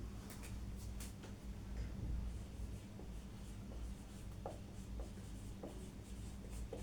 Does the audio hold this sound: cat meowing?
no